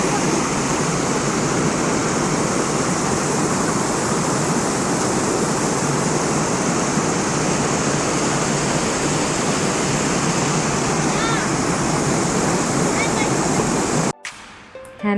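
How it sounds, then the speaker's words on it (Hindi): Steady, loud rush of a waterfall at a nature reserve, a broad continuous roar that fills the clip until it cuts off abruptly near the end. "तो झरने की आवाज़ मुझे बहुत पसंद है, मुझे पानी की आवाज़ बहुत पसंद है।"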